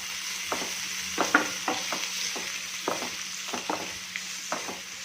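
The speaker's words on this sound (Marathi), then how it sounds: "इथे मी बारीक चिरलेला कांदा घेतलाय कांदा छान परतून घ्यायचा आहे" Finely chopped onion sautéing in a hot pan for mushroom masala, with a steady sizzle under repeated stirring strokes and scrapes at an uneven rhythm, close and clear with no talking.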